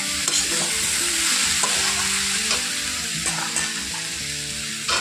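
Green chillies fry with peas in a hot pan, hissing loudly and constantly as a spoon stirs and scrapes through them in an uneven rhythm, close up, with no talking.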